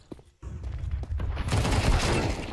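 Rapid gunfire in a Counter-Strike 2 match at a pro esports event, FaZe Clan vs GamerLegion at IEM Sydney 2023: a brief sharp shot, a short pause, then a loud dense burst of close shots.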